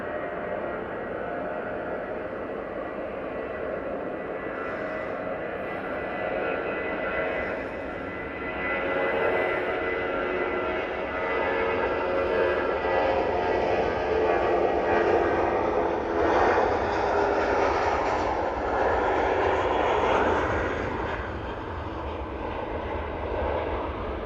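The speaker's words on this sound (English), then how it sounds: "A321-200 now on the roll." An Airbus A321-200 jet takes off at Manchester Airport, a steady, broad engine roar that swells through the middle and eases slightly toward the end, heard from a moderate distance.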